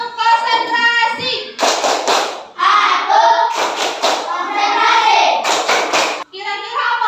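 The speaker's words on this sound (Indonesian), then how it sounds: "Tepuk konsentrasi." A class of children does a rhythmic concentration clap during a classroom ice-breaking session, bursts of patterned clapping mixed with loud chanted voices, alternating in close, energetic waves.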